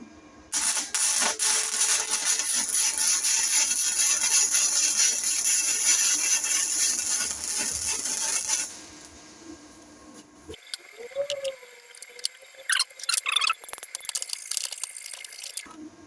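A gasless flux core welder tacks pieces of homemade stilts, a loud continuous crackling hiss lasting several seconds, then a quieter stretch of scattered clicks, taps and brief sizzles.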